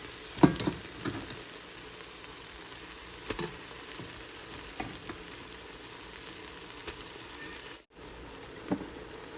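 Fried rice being stir-fried in a pan, with crab legs, dark soy sauce and oyster sauce among the ingredients: a steady close sizzle runs throughout, broken by a few scraping stirs and a brief dip near the end.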